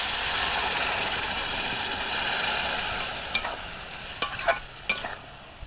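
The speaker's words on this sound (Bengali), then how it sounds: "মশলাটা কষানোর জন্য।" A spice masala for vegetable chop fries in a pan with a steady hiss and sizzle, while a spatula scrapes and stirs in three or four sharp strokes toward the end, close and without talk.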